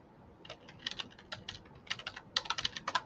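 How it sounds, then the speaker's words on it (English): Bursts of typing on a computer keyboard, quick irregular clusters of light key clicks building to denser runs near the end, close and fairly quiet, with no talk. "So I'm typing in the chat,"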